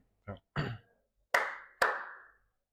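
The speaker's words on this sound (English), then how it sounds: "Do the clap thing." Four separate claps on a casual talk show set, two softer muffled ones followed by two sharper, louder ones, each standing alone in quiet.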